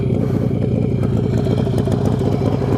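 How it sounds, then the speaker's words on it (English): A Kawasaki ZH2 supercharged motorcycle on a drag strip gives off a loud, close, rapid clattering mechanical drone that stays steady throughout with no talk. "I can hear the supercharger just about boosting"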